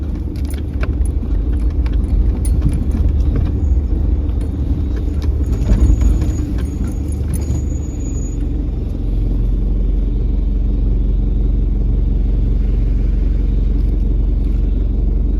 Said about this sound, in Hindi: गाड़ी का लो गियर मैंने इंगेज कर लिया है